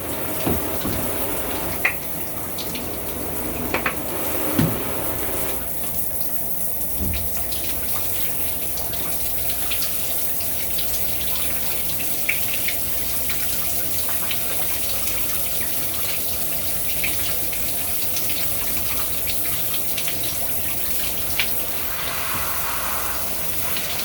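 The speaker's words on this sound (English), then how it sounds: "Whatever, I'm going to shower myself." Shower water runs steadily in a bathroom as a continuous broadband hiss and splash, with occasional small knocks and drips over the constant spray and no talking.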